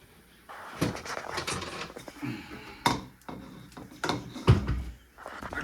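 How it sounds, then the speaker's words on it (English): Cooked chicken nuggets go into a bowl with a series of scattered clinks and knocks, some sharper than others, close by in a quiet kitchen. "Get a bowl here, put them in."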